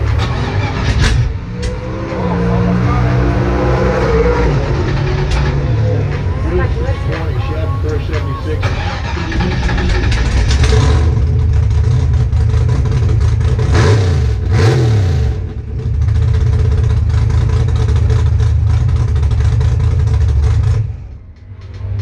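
A door slammer drag race car's engine fires up and revs repeatedly at a drag strip, loud bursts rising and falling over a steady rumble, with people talking nearby.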